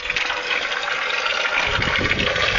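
Water runs steadily from an outdoor fountain, a loud, continuous splashing gush that stays even from start to finish, close by and alone.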